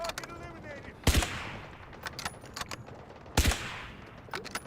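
Two sharp sniper rifle shots from the shooter game Delta Force Hawk Ops crack a couple of seconds apart over a busy background of game ambience.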